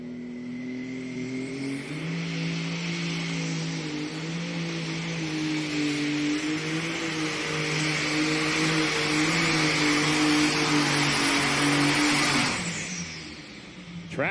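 A light Super Stock pulling tractor roars at full power through a long, steady run, its droning engine slowly rising in pitch before it cuts off sharply near the end, with faint commentary underneath.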